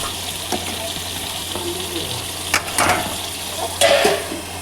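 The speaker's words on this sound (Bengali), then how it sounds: "এবার আমি হচ্ছে আলু ভাজছি" Potatoes frying in a pan give a steady low sizzle, broken by a few louder scraping and clattering bursts of stirring, close by.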